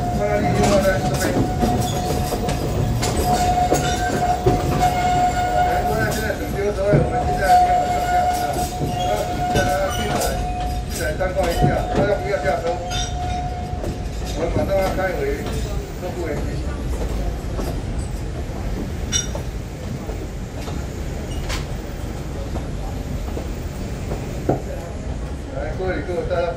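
An Alishan Forest Railway cypress-wood train rolls along the line between Chiayi and Beimen, its wheels clacking steadily with occasional squeals and a sustained rumble, while a voice talks over the ride.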